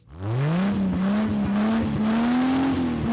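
Original 1973 Ford Maverick classic car engine roaring loud and close, rising in pitch as it revs up and holds a strong, steady growl for a few seconds.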